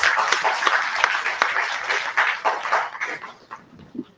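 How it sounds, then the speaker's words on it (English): Attendees at a national labour conference clap for themselves, a dense, fairly loud round of applause from a sizable crowd that stays steady, then thins near the end. "Let's clap for ourselves"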